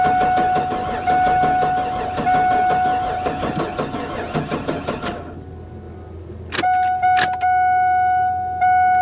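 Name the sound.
Buick Electra Park Avenue engine misfiring, not on all cylinders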